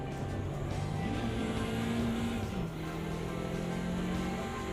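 Mini Metro car engine in a racing video game, a steady continuous drone with a slight pitch rise and fall as the revs shift, heard alone without talk.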